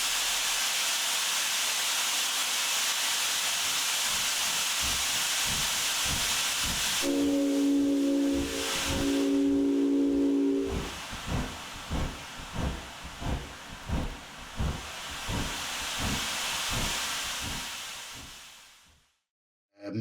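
A small model steam engine hisses with loud continuous steam, a whistle sounding briefly in the middle, then a rhythmic chuffing of the running engine that fades to quiet at the end.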